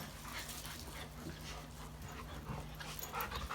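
A golden retriever plays with puppies, giving faint whimpers, soft yips and panting against a low, steady background, quiet and at a slight distance.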